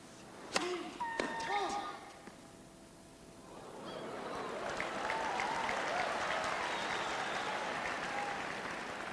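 At the 1998 US Open final in tennis, a couple of sharp ball strikes and squeaks give way to a crowd rising into broad, sustained applause and cheering that continues to the end, with a commentator talking over it.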